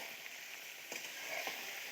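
Meat frying in hot oil with spice paste and potatoes, a faint, steady crackling sizzle with a few soft stirring scrapes, with no voices.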